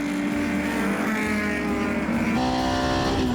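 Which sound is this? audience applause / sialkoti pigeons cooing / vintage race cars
vintage race cars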